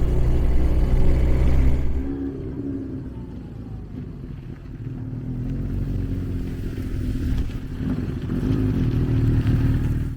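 Suzuki GSX 750ES motorcycle engine on a ride, a loud, continuous rumbling drone that drops off for a few seconds as the throttle eases, then builds again.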